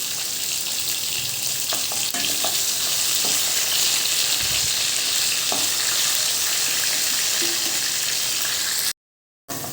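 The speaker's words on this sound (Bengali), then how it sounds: "মাখিয়ে দিয়ে আলুটা একটু ভেজে দিচ্ছি মাছে" Potato pieces fry in oil for a boal fish curry, giving a loud, continuous close-up sizzle with occasional soft stirring knocks. The sizzle drops out briefly near the end.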